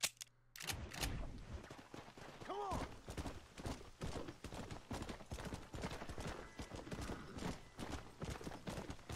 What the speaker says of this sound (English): It's hard to steer this horse, you know?